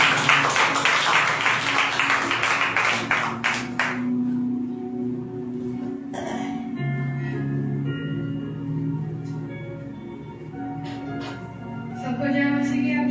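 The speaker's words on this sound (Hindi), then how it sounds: "आइए हम ब्रदर प्रिंस का और पवित्र आत्मा का तालियों के साथ स्वागत" A church congregation at a Sunday service claps in welcome, a dense burst of applause for about four seconds that then gives way to quieter room sound with a voice speaking.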